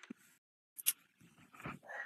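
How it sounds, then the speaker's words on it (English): Dogs barking indoors at something outside a house, a few short muffled yelps and barks heard faintly and intermittently in the background. "They seem to think there's something outside the house that needs to be barked at."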